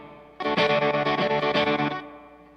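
A guitar runs through a Strymon Flint pedal set to tremolo before reverb. A single sustained chord pulses rapidly in volume for about a second and a half, then fades into a soft reverb tail.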